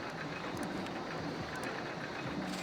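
Steady rumble of coaster trains running on track in RollerCoaster Tycoon: Loopy Landscapes, a continuous rolling noise with faint clicks and clatter throughout.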